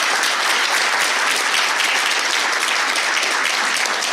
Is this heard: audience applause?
yes